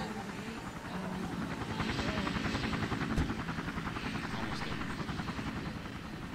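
A game helicopter in the Emergency 4 Salem mod drones with a steady, dense rotor-and-engine roar that holds loud and even for the whole stretch, swelling slightly in the middle.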